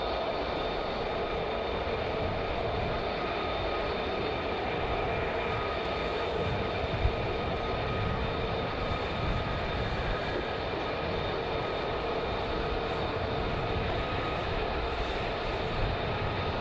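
F-35 fighter jets fly at night near RAF Lakenheath, giving a steady, distant jet-engine roar that holds evenly throughout, with no talking.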